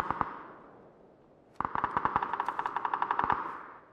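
Gunfire in PUBG: a couple of sharp single shots, a pause, then a rapid automatic burst of evenly spaced cracks with a few louder reports mixed in, fairly close and with no talk.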